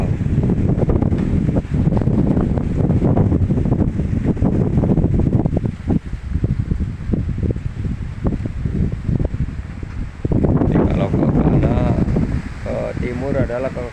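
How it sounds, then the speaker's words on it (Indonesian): Very strong wind sweeps through a town area near Kroya, with a loud, continuous gusting roar and buffeting against the microphone throughout, briefly easing before surging again. "Ini anginnya sangat kencang sekali."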